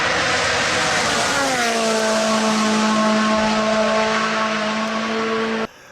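A rally car races past at speed: a loud engine roar whose pitch sweeps downward as it goes by, then settles into a steady high drone before cutting off abruptly.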